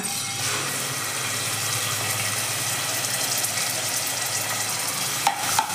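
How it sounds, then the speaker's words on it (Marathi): Bay leaves and onion go into hot oil for a spicy Marathi potato and soybean curry, setting off a steady, loud, dense sizzle that runs without a break, with a brief stir or clatter near the end. "आता आपण तेल गरम झालेलं आहे. आता आपण तमालपत्र टाकूया 2, कांदा"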